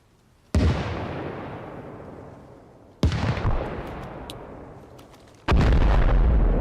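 Three grenade explosions in Arma Reforger: heavy, booming blasts about two and a half seconds apart, each rumbling away slowly before the next, with the last one loudest.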